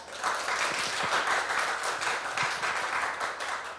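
An audience at a youth policy proposal contest claps for the next presenter, a steady medium-distance round of applause from a modest crowd, lasting the whole few seconds with no speech.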